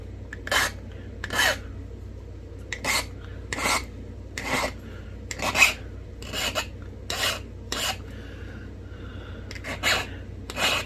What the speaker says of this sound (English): Got my handy dandy trusty notching tool.